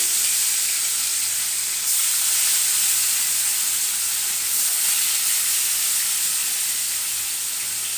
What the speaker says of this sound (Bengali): আমি এখানে সাদা তেলে মাছটা ভেজে নিচ্ছি